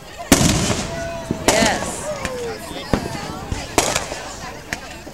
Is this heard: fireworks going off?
yes